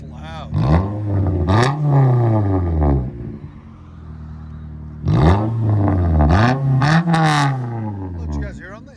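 A 2014 Toyota Corolla S with a 1.8L inline-four and no muffler gives two clusters of loud, close revs separated by a quieter idle, each burst climbing and dropping in pitch with a raspy exhaust note.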